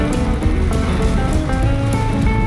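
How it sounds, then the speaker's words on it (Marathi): Heavy rain beats on a car on the Mumbai-Goa highway, a loud continuous patter with sharp drop hits over a low engine and road rumble, close and steady. "इतक्या जोरात पाऊस सुरू झालाय"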